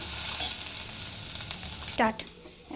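Vegetables sizzle in a hot pan with a steady frying hiss, joined by a few light stirring clicks and a short scraping sound near the end.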